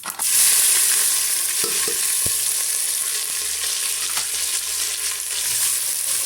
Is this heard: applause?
no